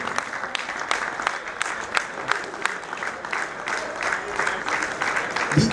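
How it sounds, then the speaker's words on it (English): A sustained round of applause from an audience at a padel club tournament finals day in Dubai: steady, dense clapping that continues throughout with crowd noise and some speech underneath. "There should be an extra round of applause for these two gentlemen coming up."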